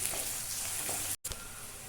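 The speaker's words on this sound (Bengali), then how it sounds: "তো এটাকে আমি খুব সুন্দর করে ভেজে নিব" Onion, ginger, garlic and chilli sizzling in hot oil, a dense continuous fry heard up close that drops out for a split second before resuming, with no talking.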